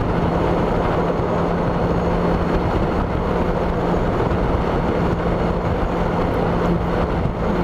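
A Honda Goldwing motorcycle cruises at 80 mph, around 3,500 RPM, producing a steady loud roar of engine drone mixed with wind rush that never lets up.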